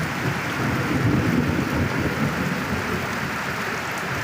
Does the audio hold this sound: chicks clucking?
no